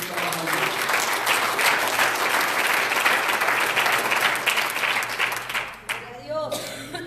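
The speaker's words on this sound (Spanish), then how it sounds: "Un aplauso, Señor, en esta mañana." A church congregation applauds loudly and steadily for several seconds at a morning service, the clapping thinning out near the end as a preacher's voice returns.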